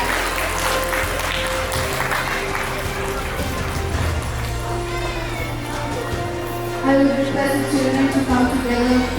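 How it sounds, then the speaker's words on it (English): Audience applause for children at an evening award ceremony for a Gita chanting competition, a steady wash of hand clapping through a large hall with a low hum beneath, growing louder near the end. "I would request the audience to give them a big round of applause"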